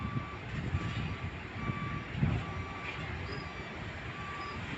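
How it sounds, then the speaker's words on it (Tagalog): Reversing beeps from a vehicle backing out of a ship, a regular series of evenly spaced high beeps over the low rumble of its engine, moderately loud and fairly near. "Yan na, lalabas na yung unang sasakyan. Paatras yan, kasi nung pumasok yan paabante."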